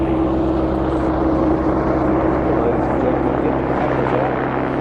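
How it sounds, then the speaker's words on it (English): An aircraft making a fast pass at the Midlands Air Festival produces a loud, continuous roaring drone that holds steady throughout, close and dominant. "Get a photo of the aircraft if you possibly can. Against that tree line. This is the fast pass."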